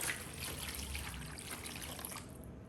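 Chicken stock pours into a pan in a soft, steady trickle with gentle splashing, fading toward the end.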